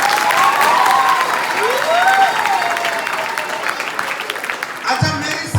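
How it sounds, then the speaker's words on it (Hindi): Audience at a talk clapping loudly and continuously, with high-pitched voices calling out over the applause, which thins toward the end as the crowd settles. "तालियां बजाओ।"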